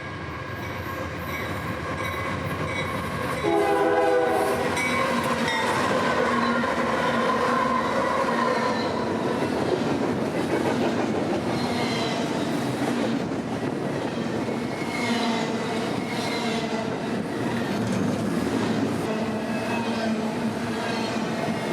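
A Union Pacific container freight train hauled by three yellow GE diesel locomotives rumbles past steadily for a long stretch, with a brief tonal squeal early on and rolling wheel noise throughout.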